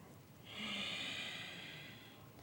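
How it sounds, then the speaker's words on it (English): A single, slow, deep exhale through the nose during a seated yoga twist, a soft, breathy hiss that swells and then trails off, close and quiet. "Keep exhaling and dip"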